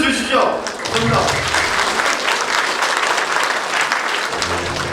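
Sustained crowd applause fills a Daegu education superintendent candidate's campaign office opening ceremony after a brief congratulatory speech, loud and steady throughout.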